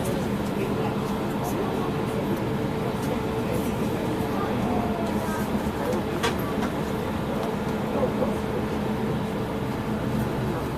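A passenger train rolls through the Transylvanian Alps in Romania, a steady low rumble and rattle of the carriage filling the interior with faint voices underneath.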